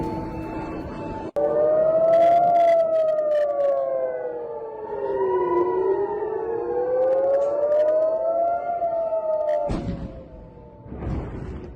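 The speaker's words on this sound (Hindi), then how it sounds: "तेल अवीव में एयरपोर्ट पर हमले के अलर्ट का सायरन बज रहा है।" An air raid siren wails in Tel Aviv during a rocket attack at an airport, its pitch rising and falling in slow, repeated sweeps. The siren is loud and carries over the surroundings, with brief noises near the start and end.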